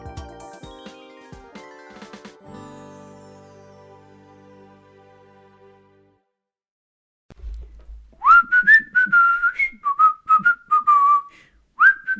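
A person whistles a tune from the rhythm game Rhythm Heaven Fever, a close, loud melody of short bouncy phrases and held notes, heard alone after a fading musical passage and a brief silence.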